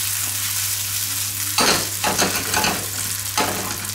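Gnocchi fry in a very hot pan, a bright continuous sizzle over a low electrical hum, swelling into louder bursts of crackling as the pan is stirred or tossed, with no talking.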